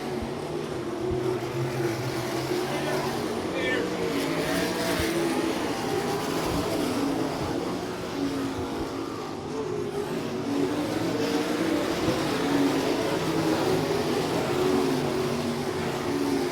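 Sprint race cars of the All Star Circuit of Champions race around the track in Zanesville, Ohio, their engines blending into a continuous, droning roar with rising and falling revs as the field circles, loud and sustained without pause.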